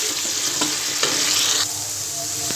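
Garlic-ginger paste is stirred into onions frying in a pan, giving a loud continuous sizzle with scraping spoon strokes throughout and no voices.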